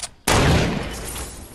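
A loud burst of gunfire in a video game aimed at a cube, one sharp onset followed by a dense, sustained roar of shots that slowly eases off.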